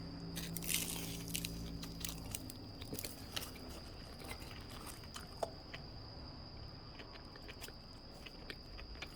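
A cheese ball from a Kyungsung twisted-doughnut shop is bitten into and chewed up close. The crunchy bites and chewing are soft and quiet against a faint background hum.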